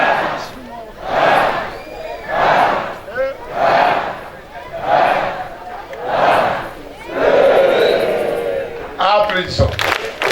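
A large crowd chants and cheers in rhythmic bursts, about six loud swelling waves of voices roughly a second apart, ending in a scrappier burst of shouts and noise.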